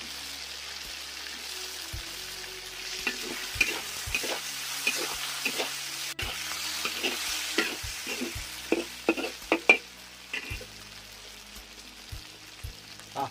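Green chili peppers being stir-fried in a wok with sour bamboo shoots and catfish, giving a steady close sizzle broken by repeated clacks and scrapes of a spatula stirring, with no talk.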